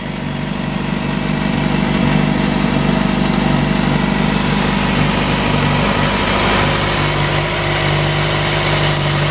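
A vehicle engine idling, a steady low rumble with an even mechanical hum, close and loud, running without change for the whole stretch.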